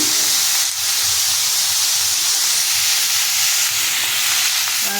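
Chopped onion and tomato go into hot oil for an egg devil, giving a loud, steady hissing sizzle that continues throughout, close and without talk.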